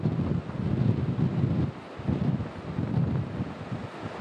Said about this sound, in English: Franklin tells me that most of the wind gusts are concentrated towards Lake Okeechobee.